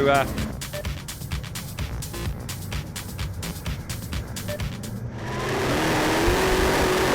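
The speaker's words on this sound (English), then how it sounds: "here we go, racing. Look at the fumes come out of these cars." Race cars at the start of an Elf Cup race at Blenheim rev and accelerate away, a loud dense engine roar that builds into a sustained wash of noise, with commentary running over it.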